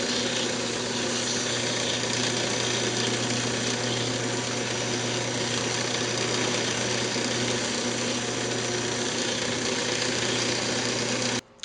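A wood lathe spins steadily while a turned magic wand with a hollow handle is sanded with 600-grit paper, giving a continuous, fairly loud motor hum with a sanding hiss that runs unbroken before stopping abruptly at the end.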